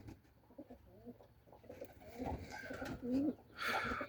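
Pigeons being trained for flying coo several times nearby, soft low throaty calls that grow louder toward the end over faint background noise.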